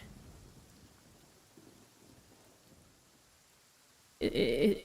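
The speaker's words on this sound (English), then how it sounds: "It's raining again." Rain and a sudden loud thunderclap in the video game Genshin Impact, a soft steady patter underneath before a heavy rumbling crash bursts in near the end.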